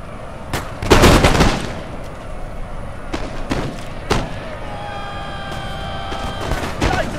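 Musket volleys in a Napoleon Total War battle, with a loud, sharp crack and scattered near and distant shots, followed by ringing tones and more gunfire.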